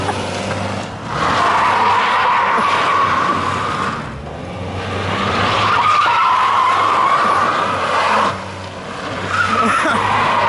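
Tires squeal in long, loud skids as a Santa sleigh car does donuts in a video game, three sustained screeching passes over a steady engine drone.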